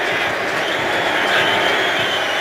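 Stadium crowd of New England fans cheering for quarterback Tom Brady at an NFL game between the Patriots and Browns: a steady, dense roar of many voices at close range, swelling slightly midway, with no clear speech.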